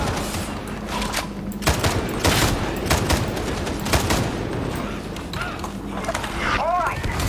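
Gunfire in Warhammer 40,000: Darktide, repeated sharp shots and bursts over a busy rumbling battle backdrop, fairly loud, with someone speaking over parts of it.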